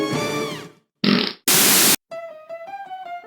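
Comic fart noises from the You Don't Know Jack video game: a long wet blat, then a short burst and a loud buzzing hiss, followed by a tooting musical fart run, all loud with no talk.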